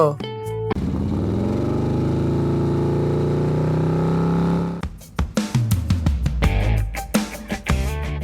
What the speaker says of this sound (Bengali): চল তাড়াতাড়ি বাইকটা স্টার্ট দে আমরাও এদেরকে বাইক রেসিং করে ওভারটেক করে হারিয়ে দিব